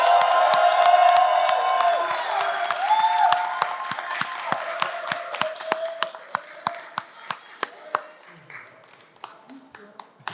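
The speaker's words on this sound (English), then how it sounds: "another round of applause." Crowd applause with cheering and whoops at a press conference at the New York State Capitol, loud at first and then thinning to scattered individual claps that slowly die away.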